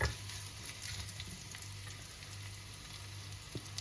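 Ingredients fry golden in a pan for coconut chutney while being stirred, giving a soft, steady sizzle with faint scrapes close by and no voices.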